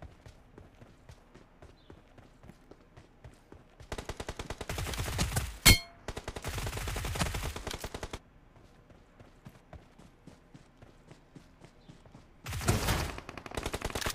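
Submachine gun fire in the mobile shooter PUBG Mobile, quiet footsteps giving way to two long rapid bursts of automatic shots with a sharp crack between them, then a shorter burst near the end.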